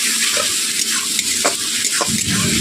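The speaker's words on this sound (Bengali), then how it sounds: "এইভাবে মশলাগুলোকে আমি 5 মিনিট কষিয়ে নিচ্ছি বন্ধুরা।" Spices for a fish curry being stir-fried in oil over low heat, a loud continuous sizzle with repeated scraping strokes of a spatula in the pan, close up and without talk.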